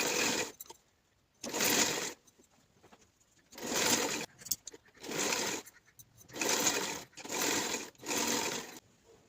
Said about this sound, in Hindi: मैं आपको दिखाती हूँ इसकी स्टिचिंग करके